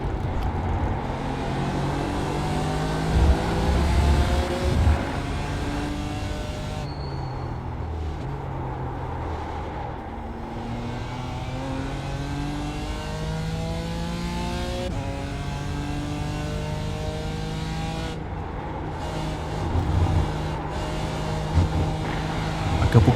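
Race cars from the Falken Tyre Challenge at Watkins Glen in iRacing drag race toward a corner, engines droning and rising through the gears in a steady loud roar with layered revving pitches, no talk.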